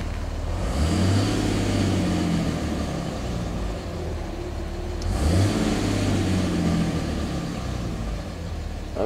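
A Ram pickup with a Cummins diesel engine drones steadily while driving, its low engine note rising and falling through two gear-like sweeps, loud and close with no talk.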